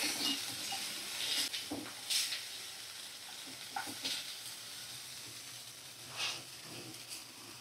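Mixed vegetables with a little salt stir-fried in a pan, a faint steady sizzle broken by soft scraping strokes of a spatula at irregular intervals, with no talking.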